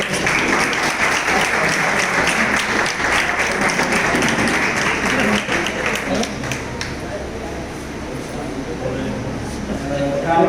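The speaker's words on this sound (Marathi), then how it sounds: "टाळ्या वाजवा आपण." Applause from a church congregation after a prayer service, a steady dense wash of clapping from many hands that carries for about seven seconds before thinning out, with voices mixed in underneath.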